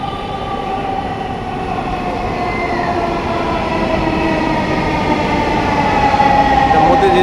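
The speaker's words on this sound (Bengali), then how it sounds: "ওই যে একটা মেট্রো আসছে ওপার থেকে।" A metro train moves along a busy platform, giving a steady, loud rumble with a faint tonal whine that builds gradually over several seconds, with no clear speech.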